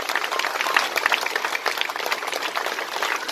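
An audience applauding at a club gathering, dense and continuous clapping from a crowd, loud and close, sustained without a break.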